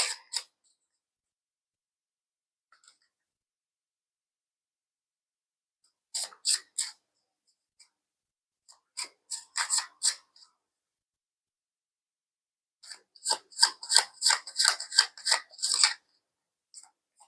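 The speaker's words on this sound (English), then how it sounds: "Feel free to skip the shuffling if you don't enjoy this part." Bursts of crisp tarot card shuffling, riffles and soft rustles in short clusters separated by silence, growing busier toward the end; no talking.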